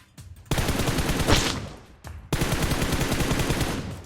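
Rapid automatic gunfire in a video game, loud dense bursts rattling almost continuously, with a brief drop around the middle before another long volley.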